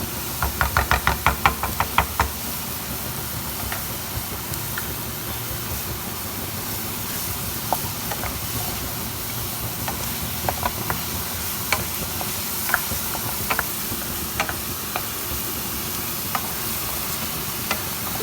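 Ginger-garlic paste fries in a pan for egg korma, a steady broad sizzle with a burst of rapid knocks early on and scattered spoon taps against the pan afterward.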